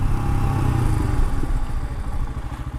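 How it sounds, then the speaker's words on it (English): Royal Enfield Himalayan motorcycle engine running loud and close while braking hard from speed, a steady thumping single-cylinder drone with a rhythmic low pulse, no talking. "Let's brake hard and see."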